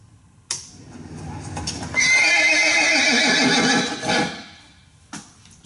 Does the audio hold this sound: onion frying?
no